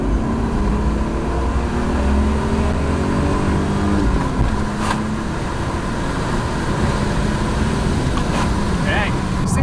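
A BMW E36 accelerates at full throttle from inside the cabin, a loud engine roar climbing in pitch through the gears with a shift around the middle, while people talk over it.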